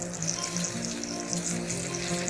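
Potato and flour batter sizzles in an oiled pan over medium heat, a steady close crackle and hiss without pause, alone with no talking.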